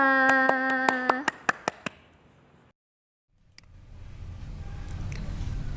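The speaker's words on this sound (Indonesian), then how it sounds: "Tepuk tangan untuk kita semua" Children in a Quran reading class clap their hands in about seven quick, evenly spaced claps over a tonal voice, then fall silent before a low background rumble returns.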